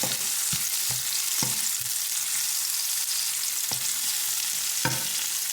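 Garlic and onion sautéing in a pan for Filipino pancit bihon, a steady close frying hiss broken by several sharp scraping stirs of a utensil, with no voices.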